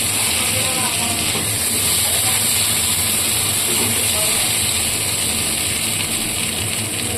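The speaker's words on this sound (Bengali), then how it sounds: "তো জাস্ট হালকা করে ভেজে নেবো আলুগুলো।" Boiled potatoes lightly frying in oil in a kadai, a loud, continuous hissing sizzle held steady throughout with no voice over it.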